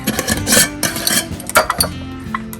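A spoon stirs bay leaves into a very full pot of cabbage soup being readied for pressure canning, with close, loud scraping and clinking against the metal in short uneven bursts.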